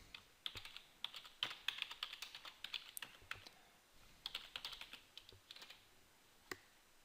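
Someone types an email on a computer keyboard in a quiet room, with soft, close, irregular key clicks in bursts and brief pauses.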